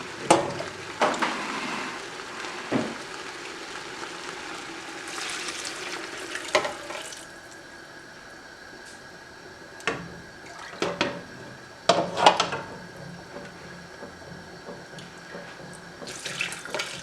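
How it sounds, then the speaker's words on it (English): Tap water runs steadily into a pot, with a few clanks and splashy bursts as the stream shifts, close and fairly loud. "Gonna start adding water. This is 4 cups."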